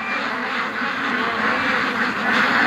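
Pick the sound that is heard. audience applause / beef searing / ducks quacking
ducks quacking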